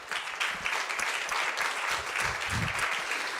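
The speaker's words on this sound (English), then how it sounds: "can you stand up, please, so we can applaud for you?" Audience at a community event applauding local organizations, a steady dense wash of many hands clapping together throughout.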